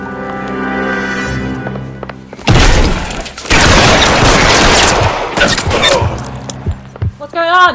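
Shotgun fire in L.A. Noire crashes out in loud bursts with heavy booms and rattling debris, overlapping other weapon noise, while game dialogue and music play around the shots.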